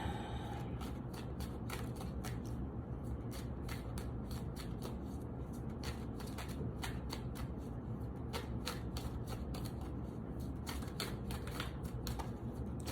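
Tarot cards are shuffled in a continuous rapid riffle and slide, a dense crisp patter of card edges lasting throughout, close and steady with no talking.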